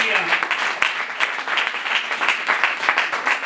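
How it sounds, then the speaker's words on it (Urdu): A church congregation clapping with both hands raised during a Pakistani worship service, producing a dense, steady wash of applause from many people across the whole stretch, fairly loud and close, with no clear speech. "دونوں ہاتھ اٹھا کر تالی بجائیں گے."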